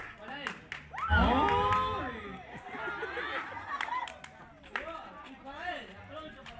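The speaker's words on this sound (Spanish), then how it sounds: "¡Aplauso para él!" A festive Christmas-party crowd claps and cheers around a shouting announcer, with lively chatter and voices mixed throughout.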